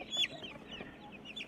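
Chickens in a small 6 by 8 chicken tractor holding 26 birds cluck softly and murmur, a few quiet close calls over a faint background, with no talking.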